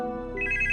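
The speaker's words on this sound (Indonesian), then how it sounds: "Ketika di rumah, Soyeon kembali menerima telepon misterius" A telephone rings in a Korean mystery drama, a brief electronic ringtone chirping in a rapid pulsing pattern, clear and close with no talk.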